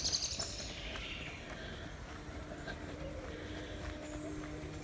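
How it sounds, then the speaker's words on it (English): Birds sing in the early evening outdoors, with a few high chirps near the start and fainter calls scattered over a soft, steady background hum. "you can hear the sounds around you, the birds singing"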